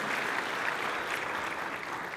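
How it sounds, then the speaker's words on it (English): An audience at a chamber of commerce community celebration claps in a dense, steady applause that fills the whole moment without any voices. "Give a round of applause for y'all."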